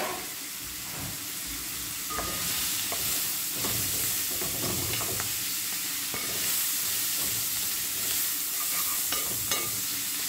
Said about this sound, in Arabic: صافي تشحر شويه هكا